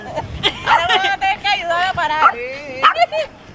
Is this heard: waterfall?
no